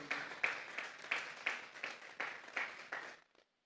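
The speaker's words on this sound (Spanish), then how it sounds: "Vamos a darle una ofrenda de palmas a Dios." Church congregation claps together as an offering of praise, about ten slow, even handclaps in a steady rhythm, moderately distant, ending abruptly into silence.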